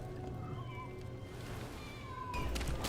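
A cat meows in the Dragon Age: The Veilguard video game, a drawn-out, fairly close call over steady ambient background noise.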